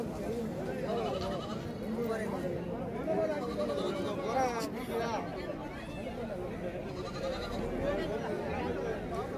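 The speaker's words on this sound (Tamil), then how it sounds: "இது எல்லாமே கன்னியாடுகள் தான்." Kanni breed goats and kids bleating at a busy livestock market, several animals calling in overlapping wavering cries amid constant crowd chatter and nearby voices of traders.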